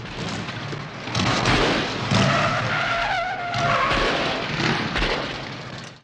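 Motorcycle barreling up with tires skidding in a film scene, loud screeching and revving bursts that rise and fall over several seconds.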